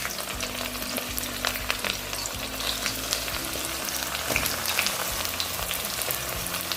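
Onion frying in a pan with bay leaves and dried chilli makes a constant close sizzle, with stirring strokes scraping through it.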